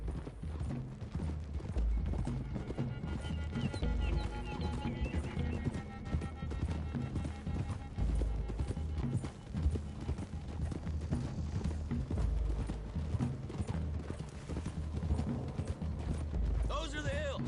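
Horses gallop in Red Dead Redemption 2, a continuous close clip-clop of hooves with occasional whinnies and creaking tack, with voices talking over the hoofbeats.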